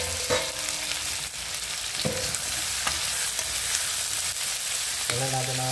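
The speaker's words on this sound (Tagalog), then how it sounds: "uunahin ko muna lutuin tong hipon natin para yung lasa niya is lumabas" Shrimp with their heads on sizzle loudly in a hot pan for ginataang hipon, a steady crackling fry broken by a few sharp bursts as pieces are stirred or added, with no voices.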